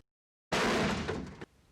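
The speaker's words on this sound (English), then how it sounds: "Fing bounced against the door with such force that it flew off its hinges." A door bursts off its hinges and crashes down: after silence, one loud, near crash roars for about a second, then drops to a softer rattling tail.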